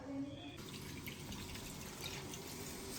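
Lamb kidneys being rinsed again in water in a sink, a steady low splashing and running-water wash that continues throughout at a modest level, with no talk.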